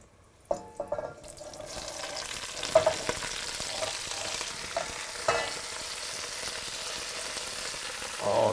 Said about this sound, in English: We saute a little bit of the leek.